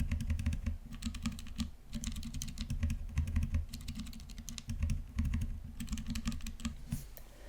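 Typing on a Dygma Raise split mechanical keyboard fitted with tactile switches, producing a rapid, continuous flurry of muted keystrokes recorded up close with no speech.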